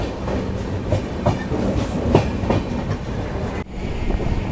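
The New Delhi–Patna special 03294 rolls slowly into Prayagraj Junction (Subedarganj) station, with a steady loud rumble and rhythmic clickety-clack of wheels over rail joints and no voices.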